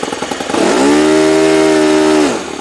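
Engine of a Cosmic Wind racing plane, Little Toni, jumping from a sputtering idle to a loud, sustained full-throttle roar that holds steady for over a second before dropping back, very close and dominant.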